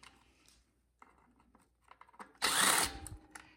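Power tool briefly spinning out a carburetor bolt on a Champion generator, one loud close whir of under a second, with faint handling clicks before it.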